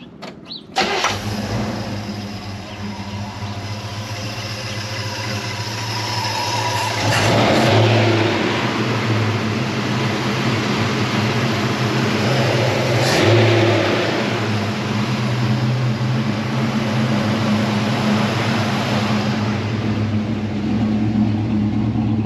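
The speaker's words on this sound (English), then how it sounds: "I'm gonna turn it on and I will show you how" A 1977 Chevy Nova Concours V8 cranks and fires up, then settles into a loud, rough idle with a couple of throttle blips partway through, running steadily throughout.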